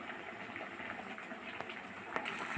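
Prawn malai curry gravy simmering in a pan, giving a soft, steady bubbling and popping, faint and close, with no voices over it.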